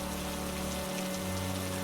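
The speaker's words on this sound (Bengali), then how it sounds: "তুমি বৃষ্টিতে ভিজছো কেন?" Cartoon rain falls as a steady, even hiss of drops over a low hum, with no voices and no change in strength.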